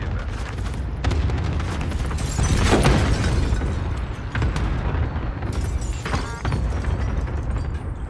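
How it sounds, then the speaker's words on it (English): Cluster strike explosions in Call of Duty Warzone, a sustained barrage of loud booms and rumbling blasts rolling in waves over about eight seconds, with no speech. "Enemy cluster strike. Take cover."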